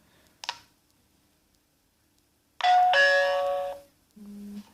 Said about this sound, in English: somebody presses the bell here